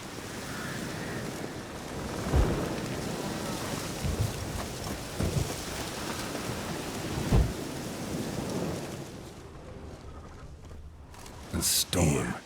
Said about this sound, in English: A storm. Here.